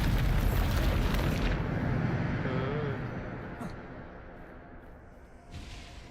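A Bombarda spell explosion in Hogwarts Legacy, a loud broad rumbling blast that fills the opening seconds and then fades into a long decaying roar, with a short whoosh near the end.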